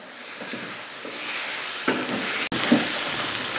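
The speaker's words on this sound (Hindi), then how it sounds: "इसके साथ दो से तीन मिनट अच्छे तरीके से भुनाई करेंगे" Fennel and dry ginger powder roast in a pan with a steady, low sizzling hiss throughout, broken by a brief clatter of stirring near the end.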